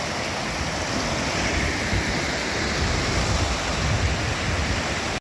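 At Aber Falls in Wales, a waterfall pours with a loud, steady, broadband roar that holds constant throughout, with no voices or other sounds breaking through.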